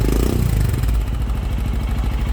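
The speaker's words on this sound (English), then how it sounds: "This is the sound of the Powerage exhaust on the Scram 411" Royal Enfield Scram 411 motorcycle fitted with a Powerage performance exhaust, a deep, grunty, bassy idle with steady low thumping pulses, close and loud throughout.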